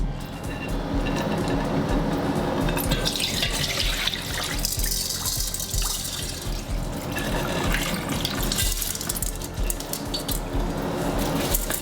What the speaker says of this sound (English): We're going to pour this mixture into the strainer.